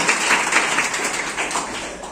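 Audience clapping together in a lecture or seminar hall, a dense, steady patter of many hands that stays fairly loud across the whole stretch, with no voices over it.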